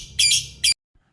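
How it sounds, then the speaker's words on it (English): A parrot gives two harsh, squawking calls, a longer one followed by a short burst, loud and close, then silence. "P-A-R-R-O-T, parrot."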